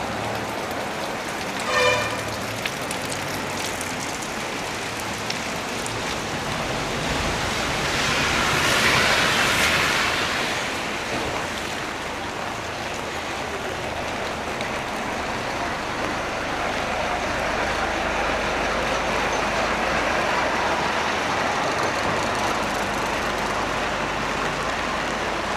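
Steady rain falls throughout an outdoor walk, a constant close hiss of drops with a brief clatter near the start and a slight swell midway.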